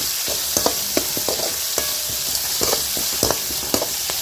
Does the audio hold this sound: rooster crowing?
no